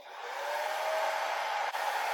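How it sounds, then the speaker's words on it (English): A steady, close whooshing airflow from a hair dryer drying cleaned watch movement parts, blowing continuously, with a brief dip near the end. "it takes maybe 10 minutes or so of drying with the hair dryer"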